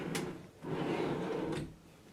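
A cabinet drawer on drawer slides at a lake camp slides once with a smooth, close rolling rush, framed by brief clicks at either end.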